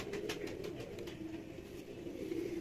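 Pigeons coo softly in a Lahore loft, low rolling calls repeating close by over a faint background hum.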